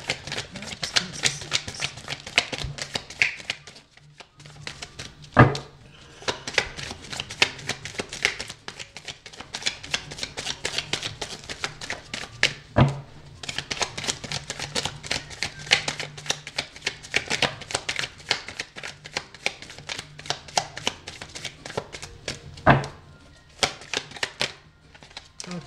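Tarot cards shuffled by hand in a long, steady run of rapid papery riffles and slaps, close and fairly loud, with a few sharper taps between bursts and no talking.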